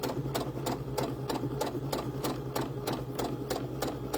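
A sewing machine stitches through doll hair in a steady, rapid rhythm of even needle strokes, close and continuous over a low motor hum, with no voices.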